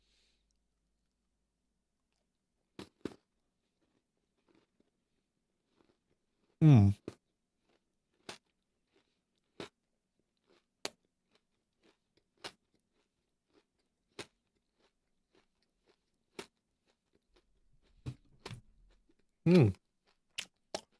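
Sparse, crisp crunches of a strawberry cream snack with little wafer pieces, chewed close to the mouth at irregular intervals across long quiet gaps, with a few soft murmurs of approval.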